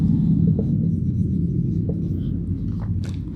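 A pen or pencil writes steadily on paper while a class 5 maths exercise is worked out, giving a continuous soft scratching and rubbing with a few brief strokes, close by, with no talking.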